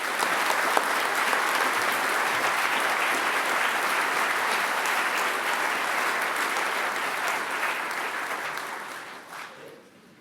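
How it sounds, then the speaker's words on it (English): A graduation ceremony audience applauds forensic science graduates with sustained, dense clapping that stays strong for most of its length before tapering off at the end. "applause."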